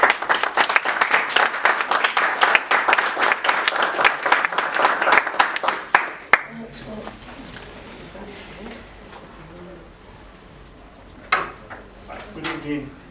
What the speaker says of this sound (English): A round of applause for Afropop.